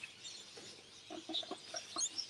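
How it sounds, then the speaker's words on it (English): Lorikeets call in the background, faint chirps and squawks scattered across a few seconds alongside soft clucking sounds. "The birds in the background sound lovely."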